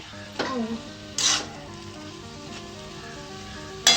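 Beto greens sizzle in a frying pan, a steady soft crackle broken by a few brief louder scrapes of stirring.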